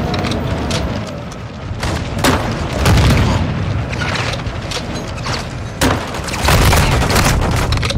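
Tank cannon blasts and explosions from the Modern Warfare 2 game boom out loud and dense, with heavy low rumble and repeated sharp impacts layered over continuous battle noise.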